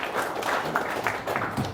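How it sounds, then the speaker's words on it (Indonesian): Brief, moderately loud applause from an audience at a discussion gathering in Manado, a dense patter of many hands clapping for under two seconds. "Kita berikan tepuk tangan kawan-kawan sekalian."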